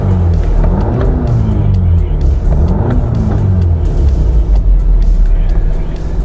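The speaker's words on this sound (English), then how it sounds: "the engine's running real smooth" A 2009 Volkswagen CC Sport engine running steadily with a close, low rumble and a few mild rev swells, and faint voices in the background.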